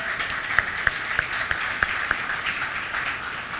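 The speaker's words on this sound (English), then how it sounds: "Please put your hands together." An audience at a tourism event claps steadily for the commissioners, a dense sustained patter of many hands with a few sharper individual claps standing out, moderately close and without talk.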